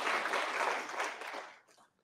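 Brief audience clapping at a café gathering, a short burst that quickly fades out within about two seconds.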